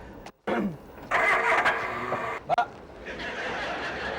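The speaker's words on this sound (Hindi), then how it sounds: "अभी ये गाड़ी चालू नहीं हो रहा है" A car engine cranking but failing to catch, with a whirring starter groan that sputters and cuts out, then tries again amid faint background noise.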